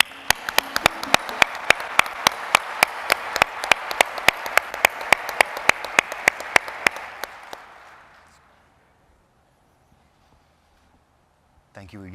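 A conference crowd in Atlanta applauds award winners at an ACM/IEEE-CS ceremony. Sharp, evenly spaced claps ring out over a broad wash of clapping, which thins and fades out about two-thirds of the way through, leaving near silence.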